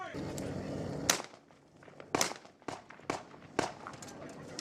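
Sharp gunshots crack from an enemy firing out of a two-story building in Sangin, Afghanistan: about five distinct reports spaced irregularly at moderate distance over a low rumble, with no clear voices.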